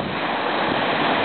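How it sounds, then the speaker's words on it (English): Ocean surf breaking just past the shore breakers, a loud continuous wash of rushing water mixed with wind buffeting the microphone, close and steady with no talk. "We finally got past the breakers"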